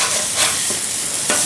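Onions sizzling on a Blackstone griddle, a loud, steady close-up hiss of frying with a few light scraping touches.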